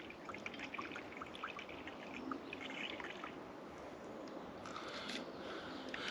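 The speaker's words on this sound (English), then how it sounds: "Just put a drop more meths in there because we're going to be boiling some water." Methylated spirits trickle from a bottle into a small meths camping stove outdoors, a soft steady pouring dribble lasting several seconds against faint background ambience.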